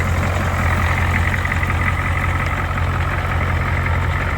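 A Ford 7.3 IDI diesel truck engine, running with ATF drawn into its injection pump, idles in a steady low, loud rumble without break, close by and with no speech.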